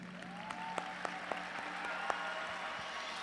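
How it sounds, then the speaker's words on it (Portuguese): A lecture audience applauds steadily, a dense patter of many hands clapping with a few sharper claps standing out, heard from a short distance. "Eu gostaria de aplaudir vocês pela sua sinceridade."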